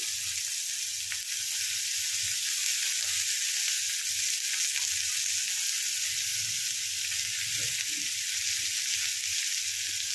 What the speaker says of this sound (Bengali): এবার পেঁয়াজগুলো ছেড়ে দেবো।